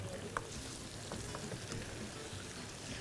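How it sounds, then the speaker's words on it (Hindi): Grated bottle gourd roasts in a pan for halwa with a soft, continuous sizzle and faint crackling. The sound is low and steady throughout the short stretch. "सारा इसमें डाल देंगे और इसको भूना जाएगा, क्योंकि लौकी को भूनना बहुत ही ज़रूरी है"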